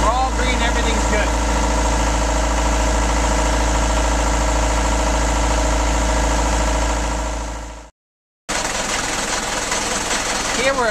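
An engine runs steadily at about 2,000 RPM, a loud, even mechanical drone that cuts out briefly near the end before resuming at the same pitch.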